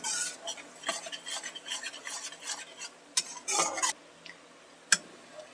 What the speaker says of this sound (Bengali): প্রায় 5 মিনিট ধরে আমি পেঁয়াজটা নেড়ে চেড়ে ভেজে নিয়েছি।